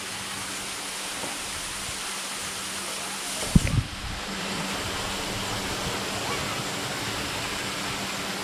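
Steady rushing water from a waterfall at a dinosaur park, a continuous broad wash of sound interrupted by a brief knock of handling noise in the middle.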